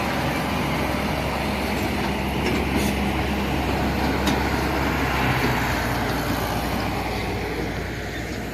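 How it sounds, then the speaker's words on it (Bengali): A toy train rolls past in an eco park in Kolkata, a steady rumbling clatter of wheels on track, fairly close and continuous with faint outdoor background noise. "টয় ট্রেন যাচ্ছে"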